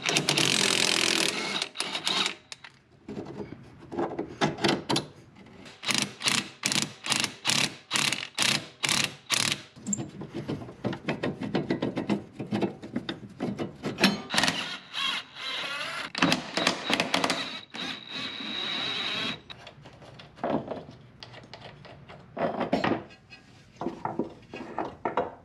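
Rapid ratchet clicking sounds close by as 17mm strut tower nuts are undone in the engine bay of a Honda Civic EK to remove a coilover, in quick bursts broken by brief pauses.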